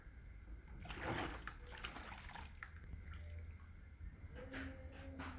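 Water sloshing and splashing as a white shoelace is washed by hand, with soft trickles and brief splatters throughout and a couple of faint tonal squeaks near the end, no talking.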